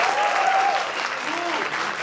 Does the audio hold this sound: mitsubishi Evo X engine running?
no